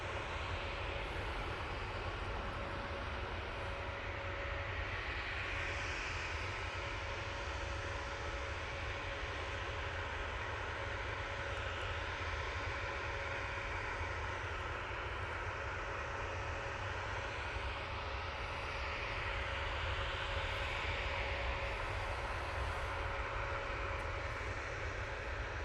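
An Airbus A321neo at Manchester Airport gives a steady, broad engine roar that holds loud for the whole stretch, with a faint tonal whine running through it and no voices.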